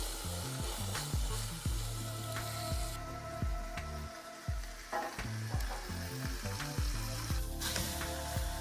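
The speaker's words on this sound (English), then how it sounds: "Now it's time to put a little olive oil in the pan and get to searing our meat." Beef pot roast searing in olive oil in a Dutch oven, a loud continuous sizzle and crackle of hot fat, with occasional scrapes and shifts of the meat in the pot.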